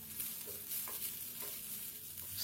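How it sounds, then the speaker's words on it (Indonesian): Minced chicken and meatballs fry in a fragrant spice paste, giving a steady, soft sizzle with a few faint scrapes of stirring, heard close up with no talking. "Kita masukkan ke dalam bumbu yang sudah harum ini. Lalu kita masak sampai harum juga."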